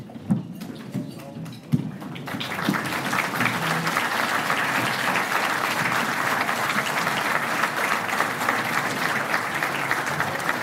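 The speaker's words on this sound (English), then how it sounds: "Well-deserved applause." Audience applause at the Indiana Football Hall of Fame Region 3 induction banquet for standing Hall of Famers. After a few scattered knocks, a full room of steady, dense clapping swells in and holds loudly to the end.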